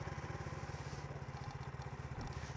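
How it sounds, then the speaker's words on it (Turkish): A Skyteam T-Rex 125 motorcycle engine idles steadily nearby, its exhaust giving a rapid, even pulsing putter with no voices. "egzozu çok güzel. Bayağı böyle pata pata pata"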